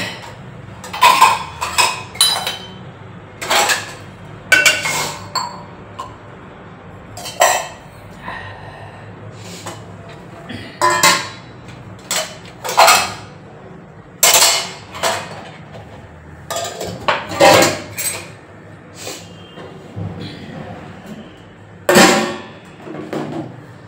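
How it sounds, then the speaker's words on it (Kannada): Steel pots, pans and dishes are handled and stacked in a home kitchen, with a series of sharp metallic clanks and clinks at irregular intervals, close and loud, with no talking. "ಇದೆಲ್ಲ ಪಾತ್ರೆ ಸ್ವಲ್ಪ ಜೋಡಿಸ್ಕೊತೀನಿ"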